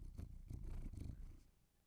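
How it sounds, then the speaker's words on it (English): A cat purrs right beside the microphones in a quiet room, a soft, rhythmic rumbling in close pulses that fades toward the end. "the cat is coming over to our microphones and headbutting me in the face"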